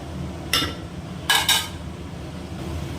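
A lid clanks down onto a pan of white bitter gourd curry: one sharp metallic clink, then two quick clatters close together, loud and near over a quiet kitchen background.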